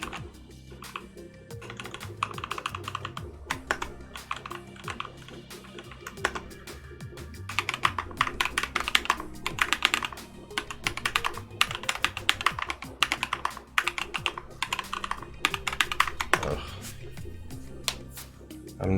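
Typing on a Keebio Quefrency split mechanical keyboard with Boba Linear Thock switches, rapid uneven bursts of deep clacky keystrokes, close up, with a person talking over parts of it.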